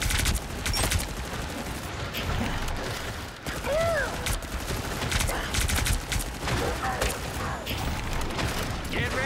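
Rapid bursts of gunfire from a support character's gun in the hero shooter Marvel Rivals, crackling repeatedly amid game effects and mechanical clicks, with voices speaking over the action.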